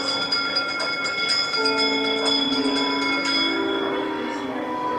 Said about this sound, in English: give us a hint by ringing the bells